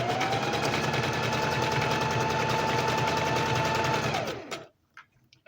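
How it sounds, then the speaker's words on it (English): A sewing machine stitches fabric in a steady, continuous mechanical whir that runs loud and close for about four seconds, then stops abruptly, leaving a few faint handling clicks. "And just keep on sewing."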